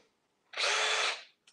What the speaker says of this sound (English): So now you want to have your drill on speed setting number two.